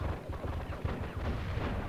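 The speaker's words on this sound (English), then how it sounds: "there's like a scripted shooting match between some guards and some prisoners" Gunfire from a scripted shootout between guards and prisoners during a prison riot in the video game Die Hard Vendetta, a dense, continuous rumble of rapid shots and booming blasts, loud and close, with no speech.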